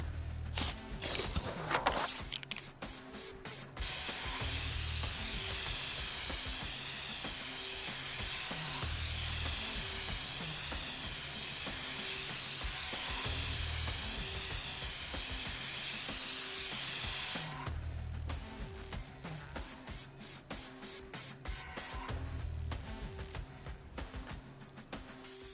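An aerosol spray can letting out a long, steady, close hiss for several seconds, framed by brief clattering and shaking noises before and after the spray.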